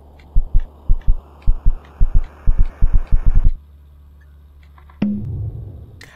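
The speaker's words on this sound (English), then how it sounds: "Why is my PC's heart beating?" Heartbeat effect from the video game KinitoPET, a loud, close thumping in paired beats over a low hum, about a dozen beats that stop abruptly, followed by a short electronic tone and a brief swell of noise.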